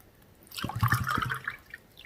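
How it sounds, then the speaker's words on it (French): Water swirled round inside a glass to make a small whirlpool, a brief close sloshing and trickling swirl lasting about a second and a half, alone without talk. "Tourbillon avec l'eau, tu fais un tourbillon,"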